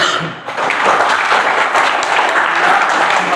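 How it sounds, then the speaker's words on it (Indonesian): A classroom of pupils breaks into loud, close, dense applause that swells quickly and holds steady throughout. "Baik, tepuk tangan."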